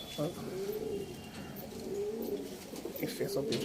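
Pigeons, including a Kalanka pair kept at a home loft, coo in low rolling murmurs, close by and repeated through the moment, with faint background noise and an occasional voice.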